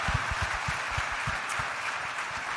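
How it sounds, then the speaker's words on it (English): Applause for a rookie football player at a stadium groundbreaking ceremony, a dense burst of clapping from a nearby crowd, brief and fairly loud. "Give him a round of applause."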